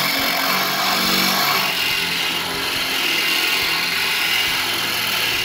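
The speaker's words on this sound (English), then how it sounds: "So now that those are drilled out" A power drill grinds loudly and continuously through rusted bolts on a Jeep Wrangler TJ tailgate, a harsh, steady whine with no pauses.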